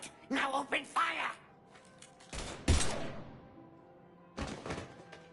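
Mass Effect 3 gunfire: a sharp burst of shots rings out after a voice, then another volley follows a few seconds later, mid-loud and close.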